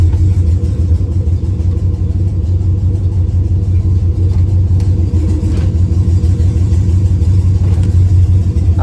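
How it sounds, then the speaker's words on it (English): A 1966 Chevy C10 pickup with an LS1 V8 runs in reverse gear while raised on jack stands. It gives a loud, steady, deep engine rumble throughout, close by, with no break. "I see the motor moving, so yeah, I'm up on jack stand"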